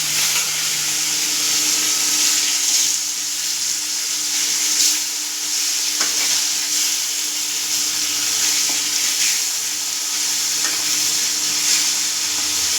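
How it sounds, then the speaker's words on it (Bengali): Pieces of fresh rohu fish frying in hot oil give a steady, close, crackling sizzle with occasional sharp pops, heard alone without talk. "এই যে মাছ ভাজছি।"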